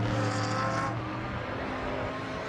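Race cars circle the Oschersleben circuit with a loud, continuous engine roar that stays near and dense throughout, with one car's pitch sweeping past early on.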